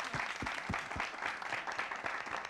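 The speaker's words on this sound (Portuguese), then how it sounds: "Palmas para os caras?" A studio audience applauds a young indigenous forró band on a TV program: dense, steady clapping fills the whole stretch at an even level, with a few sharper individual claps standing out close by.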